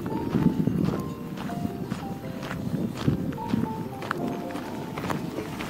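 A shepherd's horse walks along a rural road near Alverca do Ribatejo in Portugal, its hooves clip-clopping in a steady, close rhythm with a few brief tonal calls in the background.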